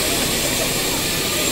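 Engine of the Nilgiri toy train on the Nilgiris mountain railway, a steady broadband rumble with hissing steam filling the whole stretch, loud and close with no break.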